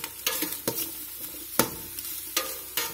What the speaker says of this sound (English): We're just going to let these vegetables saute and sweat down a little bit.